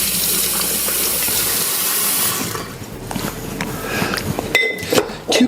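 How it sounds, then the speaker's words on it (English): Running water rinses muddled berries out of a cocktail muddler: a steady, close splashing rush that stops partway through, followed by light clinks and knocks of the muddler and glassware. "after I rinse the berries out of my muddler"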